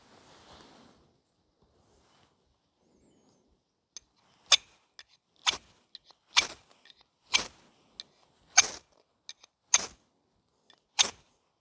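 A sharp knife spine scraped down a fire steel makes about eight crisp, evenly spaced rasping strikes, close and clear against silence.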